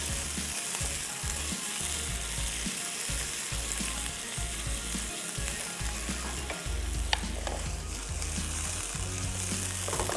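Chicken fries in a pan for yellow curry, a loud, steady sizzle with frequent stirring scrapes and spatula knocks, with music underneath.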